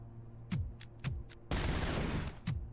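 Full-auto handgun fire in Robocop: Rogue City, several short sharp shots with a longer sustained burst in the middle, loud and close against the game's background hum.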